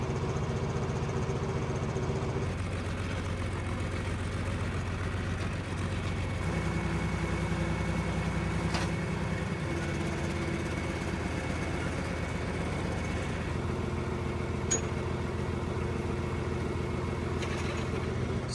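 A borrowed 4000 series farm tractor running in a hayfield during alfalfa baling, a loud, continuous low engine drone with slight shifts in load and pitch over time, no voices.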